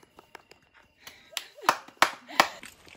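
Scattered claps from a few people at a birthday celebration pick up into a short burst of applause, with a couple of voices calling out over it.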